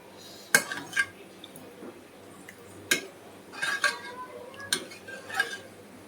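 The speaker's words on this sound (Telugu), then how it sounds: "ఇలా ఉంటలు లేకోకుండా మంచిగా మిక్స్ చేసుకొని పక్కన పెట్టుకోవాలి" A spoon scrapes and clinks against a pot while Bisibelebath masala mixture is stirred, giving a handful of sharp metallic taps spaced irregularly over several seconds, fairly quiet and close, with soft scraping between hits.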